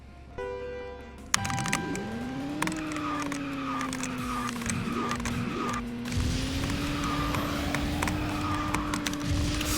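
A kart in KartRider whines along with a rising and falling engine tone, while repeated drift skids and mechanical clicks sit over game sounds at a steady close level.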